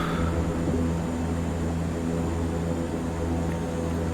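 Canadair CL-415 propeller aircraft engine in Microsoft Flight Simulator 2020, a steady, loud droning hum with a constant tonal buzz that holds level throughout, with no talk.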